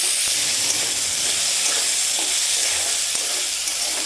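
Tomatoes frying in a pan give a continuous, loud sizzling hiss with faint stirring scrapes, close and steady without talk.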